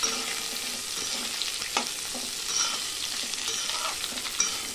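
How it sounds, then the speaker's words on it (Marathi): Ivy gourd (tondli) pieces fry in oil in a kadhai over a low flame, giving a continuous close sizzle broken by occasional scraping and clinking stirs, with no talking. "तेलावरतीच मंद गॅसवरती आपल्याला ही तोंडली छान अशी परतून घ्यायची"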